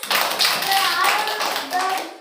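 A class of young children clap their hands in a fast, uneven patter of taps, close and fairly loud, with children's voices mixed in.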